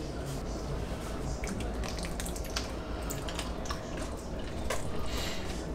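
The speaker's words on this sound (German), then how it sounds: "Jetzt mache ich persönlich immer noch ein bisschen Sahne zu, weil das einfach nur lecker ist." Cream pours into a pot of potato soup with a soft, continuous wet splashing and dripping that stays close and steady throughout.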